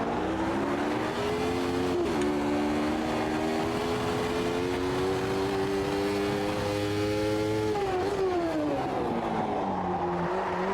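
Loud, sustained wail of a 1990s Formula 1 car engine in the Automobilista 2 racing game as it slides, pitch holding high then dipping and climbing again around brief gear changes, with no speech.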